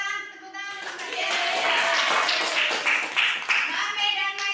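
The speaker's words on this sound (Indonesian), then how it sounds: "tepuk tangan untuk dia" Children in a classroom clapping their hands, a burst of uneven applause-like claps at moderate distance, lasting a few seconds, with a voice speaking at the start and end.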